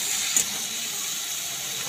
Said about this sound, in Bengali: এখানে দেখো পটল আর পেঁয়াজটা যে ভাজছি